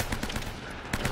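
Rapid automatic gunfire rattles loud and close in the video game Uncharted: Drake's Fortune, a dense continuous burst of shots with a couple of sharper cracks near the end.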